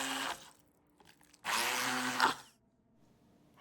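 A countertop blender purees drained canned sweet potatoes in two loud whirring bursts, a short one at the start and a longer steady one about a second later, with quiet gaps around them.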